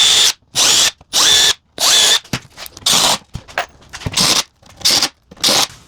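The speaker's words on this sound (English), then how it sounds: "Apply a couple of screws." A power drill drives screws into a cabinet being repaired, with about eight loud, close whirring bursts in stop-start rhythm separated by brief pauses and small handling clatters.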